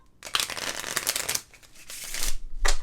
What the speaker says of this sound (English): Wow, this is a lot of work to pull all these cards.